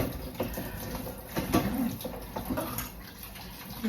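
Plates being washed by hand with soap and running water, a steady wet splashing and trickling that continues throughout with occasional louder clinks and surges.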